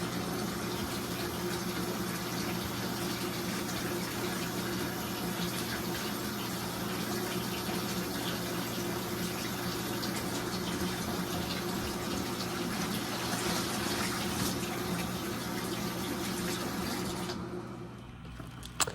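Tap water runs steadily into a basin, a constant full gushing hiss that holds for most of the stretch and then cuts off abruptly near the end, close and alone without talk.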